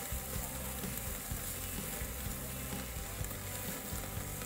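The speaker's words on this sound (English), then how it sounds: "I'm just gonna swing them around to the hot coals. And we'll let them sear for a minute or so." Burgers sear over hot coals on a grill, giving a steady close sizzle and crackle that runs continuously without any talk.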